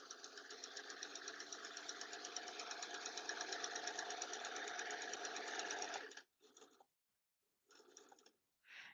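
A mechanical sewing machine stitches fabric for a recycled-material advent calendar, running in a steady, rapid, loud whir for about six seconds before stopping, followed by two short bursts of stitching.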